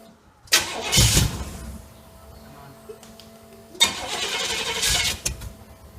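A 1968 GMC truck engine, starting for the first time in 20 years, cranks in two loud, close bursts with a quieter pause between them, the second attempt running longer.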